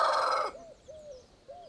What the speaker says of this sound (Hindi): इस मुर्गे की आवाज़ में